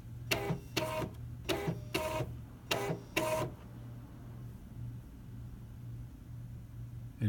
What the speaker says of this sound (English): And it's printing right now